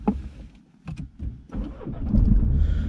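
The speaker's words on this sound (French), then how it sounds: "au démarrage de votre voiture" A car's engine starts from the driver's seat: a short stuttering crank, then the motor catches and settles into a loud, steady idle, with no one talking.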